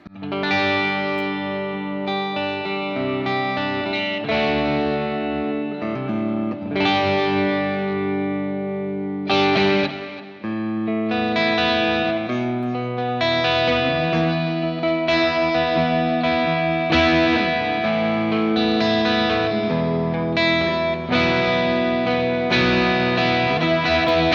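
A clean Gibson Trini Lopez electric guitar on the neck pickup with tone turned down plays warm, round chords and sustained notes with a chorus-like shimmer, ringing continuously with long sustain and no voices.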